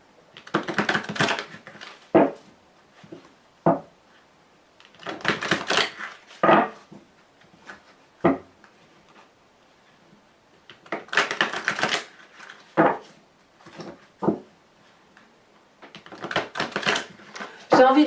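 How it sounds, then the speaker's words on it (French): Tarot cards are shuffled close by in repeated bursts of rapid riffling and slapping, each followed by short pauses and sharp single taps as the deck is squared. "on va mélanger les cartes"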